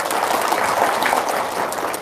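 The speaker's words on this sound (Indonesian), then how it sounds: "Nih, tepuk tangan dong." An audience claps steadily at a talk about wealth, a dense, even patter of many hands held at a constant loudness for two seconds, with no voices rising above it.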